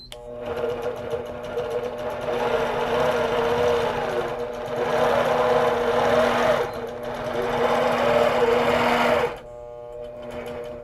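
Sewing machine stitching a quilt, a steady fast mechanical whirring hum in three long runs with slight pauses between, close and fairly loud, ending in quieter handling.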